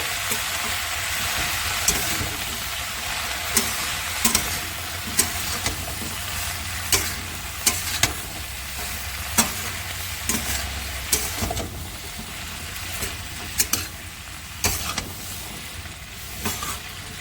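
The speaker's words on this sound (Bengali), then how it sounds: "আমি সবজিগুলো পাঁচ মিনিট ভেজে নেব" Vegetables, seasoned with turmeric and salt, fry in a pan under a constant sizzle. A utensil scrapes and stirs with regular clacks and scrapes close by, and no one speaks.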